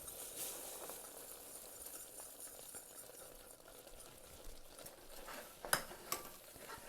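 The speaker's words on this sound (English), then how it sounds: "When your water started boiling, whisk in your flour." A whisk stirs flour into boiling water in a pot while making churros dough. Faint scraping and stirring with a low simmering hiss give way to a few sharper metallic clinks near the end.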